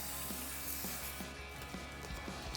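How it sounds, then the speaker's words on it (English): Brake cleaner is sprayed onto a truck brake rotor, a faint, steady aerosol hiss that runs throughout with soft repeated knocks beneath it and no talking. "So we'll grab some brake cleaner and spray down the surface."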